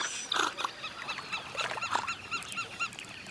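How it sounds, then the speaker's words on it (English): Giant otters in the Pantanal wetland of Brazil snort in warning, a run of sharp, nasal, honking calls repeated through the moment, fairly close and loud over light background noise. "They snort a warning."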